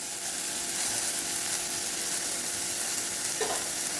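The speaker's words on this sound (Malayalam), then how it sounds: "മസാല നന്നായി വഴണ്ട് വന്നിട്ടുണ്ട്." Masala frying in a pan for a breadfruit kofta dish, a steady close sizzle with light scraping of stirring throughout, no talking.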